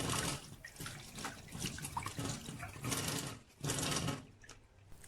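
Tap water running while a crab is cleaned, a continuous splashing rush with surges and dips as hands move under the stream, close and fairly soft.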